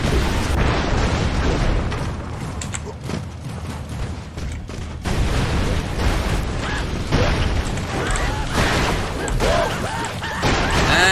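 Explosions in the video game Broforce come as a dense, loud barrage of booms and crackling bursts with gunfire, continuing almost without a break throughout.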